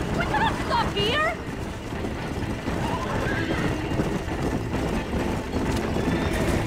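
Horses in the Red Dead Redemption video game whinny in rising, wavering calls near the start, followed by clip-clopping hooves over a busy ambient background; a voice talks over the scene.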